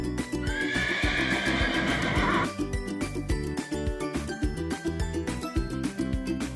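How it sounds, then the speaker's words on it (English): A horse gives one long, loud whinny that lasts a couple of seconds, with cheerful background music playing underneath and continuing after the neigh ends. "Horse."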